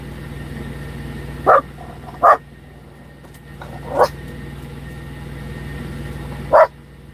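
A puppy lets out four short, sharp yips or barks spaced a second or two apart over a steady low background hum.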